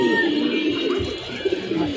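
Pigeons that have just landed at their loft coo softly in low, rolling calls, close and fairly steady against faint background noise.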